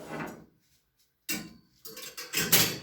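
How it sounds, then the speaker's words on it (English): A wood stove door is opened with a metallic clank, followed after a short pause by rattling, clattering knocks of iron parts, close and loud with no talk. "I will do some opening of my stove"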